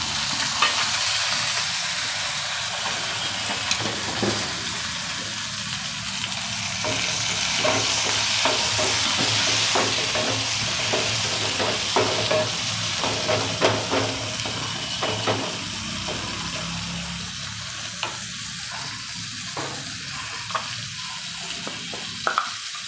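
Tomatoes fry with garlic in a pan for a methi curry, giving a loud continuous sizzle with repeated scraping strokes of a spoon stirring throughout, close and unbroken.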